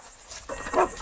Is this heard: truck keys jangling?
no